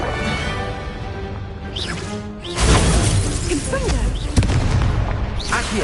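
A Confringo explosion spell goes off in a Harry Potter video game, a sudden booming blast with crackling debris following a stretch of whooshing spell effects and game music, sounding loud and close.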